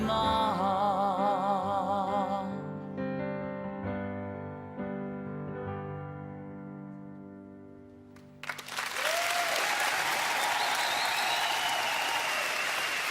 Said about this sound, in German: Marcel, die Applaus, dein Publikum.